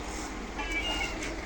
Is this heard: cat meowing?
yes